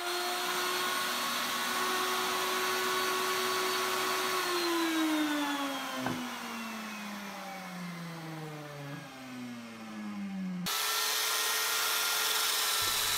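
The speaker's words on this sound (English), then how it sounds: "I'll sand the excess from the center off manually with my belt sander" A belt sander runs on exotic wood, its loud, steady motor whine dropping in pitch as it bears down under load, then picking back up near the end.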